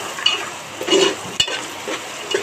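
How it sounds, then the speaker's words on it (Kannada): A couple of handfuls of green peas are stirred in hot oil for pulao, with a soft, continuous sizzle and scraping spoon strokes against the pan at close range. "ಚೆನ್ನಾಗಿ ಇದರಲ್ಲಿ ಒಮ್ಮೆ ಹುರ್ಕೊಳ್ಬೇಕು ಎಣ್ಣೆಯಲ್ಲಿ ಬಾಡಿಸ್ಕೊಳ್ಬೇಕು"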